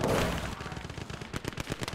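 Rapid gunfire from the Gates of Hell war game during a German tank defense, a quick run of machine-gun bursts following a heavier opening blast, moderately loud.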